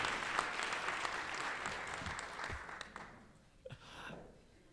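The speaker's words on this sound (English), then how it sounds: "Let's give them a round of applause." A crowd of fairly distant listeners claps for students at an event with the governor, steady applause that tapers off near the end, with a few louder claps standing out.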